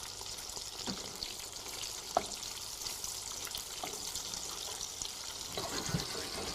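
Breadcrumbed plaice fish fingers frying in a pan, a constant faint hiss and crackle of hot fat with a few soft taps as the pieces are turned, low and steady with no voices.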